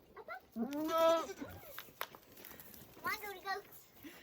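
Goats on a family homestead bleat loudly in two clear bursts, one long wavering cry near the start and another a few seconds later. A voice and other farmyard sounds are heard in between.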